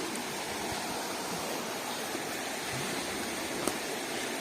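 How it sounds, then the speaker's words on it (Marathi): A river swollen after a night of rain flows in a dense, steady rush of water. The roar is loud and even throughout, with a single faint click near the end. "पाणी वाढलंय नदीचं खूप"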